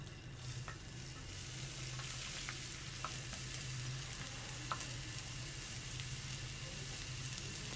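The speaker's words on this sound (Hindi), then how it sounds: "400 ग्राम प्याज है मेरे पास, मैंने चॉप करके रखे में, ये हम डालेंगे" About 400 grams of chopped onions frying in hot oil in a pan for fish katakat, a soft, even sizzle with faint crackles and pops, quiet and continuous with no voices.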